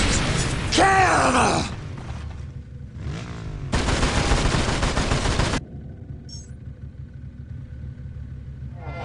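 Battle gunfire in Warhammer 40,000: Dawn of War Dark Crusade, loud bursts of rapid automatic fire mixed with rumbling explosions and unit shouts, cutting in and out between quieter stretches of low battlefield rumble.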